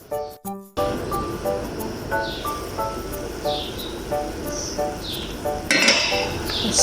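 A metal lid is set back onto a cooking pot of eggplant and vegetables, ringing with several bright clinks and rattles close by, followed by softer scraping and shuffling kitchen handling.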